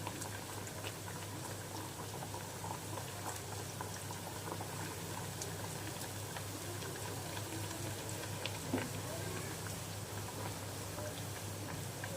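Chana dal puri bubbles in hot oil while being stirred, a constant soft frying hiss with fine popping that stays even and fairly quiet throughout.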